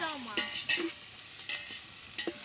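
Biryani stirred in a pot with a spoon or ladle, giving a few scattered scraping and clinking strokes over a soft sizzle of frying, fairly quiet and close with no voices.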